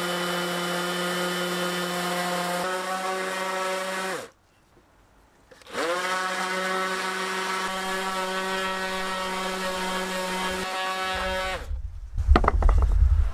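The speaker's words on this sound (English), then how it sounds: "So let's get these sanded and see what these look like." A power sander works over three small pieces in a camper van, giving a steady, loud motor whine that cuts out briefly, starts again and runs on, with a burst of rustling handling noise at the end.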